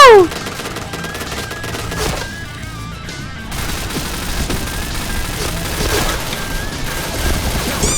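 Rapid MP7 submachine gun fire in the online shooter Point Blank, on a downtown map, with loud sustained bursts of automatic shots and a brief lull midway before firing resumes.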